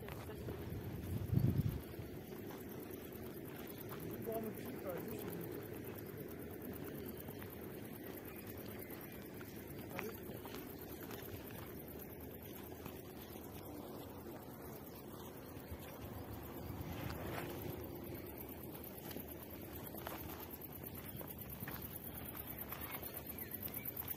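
Strong wind, around 4 m/s, gusts past the microphone on a mountain walk near Kislovodsk. It blows steadily as a low rumble for the whole stretch, with a louder buffet near the start. People talk in the background.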